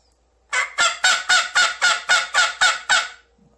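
Turkey mouth call of the flex-tone type, blown outward to produce nine evenly spaced, loud, nasal yelping notes in a steady rhythm, close and alone with no talking.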